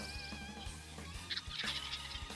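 Quiet gobbling and clucking calls of wild turkeys in nearby bushes, including a hen, a few rapid bursts over a low outdoor background.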